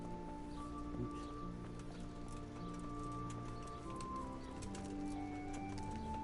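A horse's hooves clip-clop steadily in the Kingdom Come: Deliverance video game, fairly faint under a constant bed of game ambience with birdsong and sustained tones.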